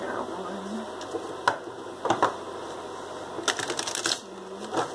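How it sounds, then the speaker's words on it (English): Tarot cards are shuffled in short, quick bursts of papery flicking, one brief burst early and a longer rapid run near the end, quiet and close with a soft voice between. "I'm going to do three shuffles here."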